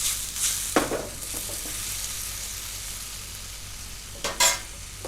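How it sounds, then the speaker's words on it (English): Peeled tomatoes being stirred into a Maltese rabbit stew in a pot, a steady soft sizzle with a few brief scraping strokes of the spoon near the start and end. "We'll just give that a little bit of a stir."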